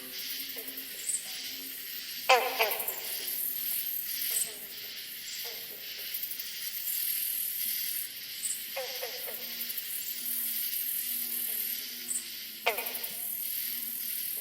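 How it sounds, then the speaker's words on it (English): Insects in a late-season multi-species frog chorus keep up a constant high-pitched whine, broken by a few sharp, brief rasping calls spaced several seconds apart. "Most of the high-pitched noise that you hear on this recording is insects."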